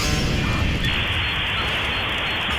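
An incendiary grenade bursts into fire in Counter-Strike, a roaring whoosh of flames followed by a steady crackling hiss, loud and close.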